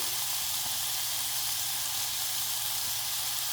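Fenugreek curry sizzles in a pan on a simmering stove, a steady close hiss of frying with faint stirring, and no one speaks.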